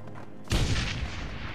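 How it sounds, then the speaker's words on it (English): Sudden explosion in the game Shadowrun: Hong Kong, set in a quiet laboratory, a single heavy boom that breaks out of near silence and trails into a rumbling decay. "The stillness of the RS laboratory is suddenly rent by the unmistakable sound of an explosion."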